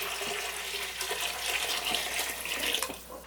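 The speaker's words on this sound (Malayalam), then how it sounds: "ഇതിലേക്ക് ബാക്കി നമുക്ക് വെള്ളം ഒഴിച്ചു കൊടുക്കാം" Water pouring steadily into a pan, a continuous splashing gush with a few light knocks, fairly quiet and close.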